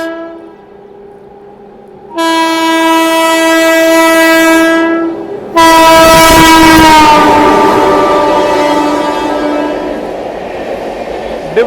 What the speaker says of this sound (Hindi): पीछे से आ रही है अपनी डिब्रूगढ़ नई दिल्ली राजधानी एक्सप्रेस